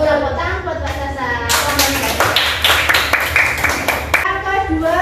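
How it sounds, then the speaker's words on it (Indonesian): Group clapping for a student during a school class presentation, a burst of many hands that swells midway and runs a few seconds over steady voices and children's chatter in the room. "Tepuk tangan buat Mbak Sasa."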